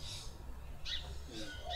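Birds calling in a garden, a few faint, separate chirps and hoots over quiet background hum, spaced across a short span with no speech.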